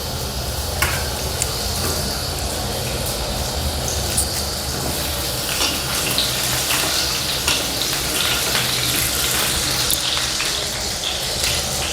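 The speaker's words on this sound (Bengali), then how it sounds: "আলুটা একটু হালকা করে ভেজে নেবো" Potatoes frying in hot oil for methi chicken, a loud, dense, crackling sizzle that runs steadily throughout with occasional sharper pops and spatters, close up with no talking.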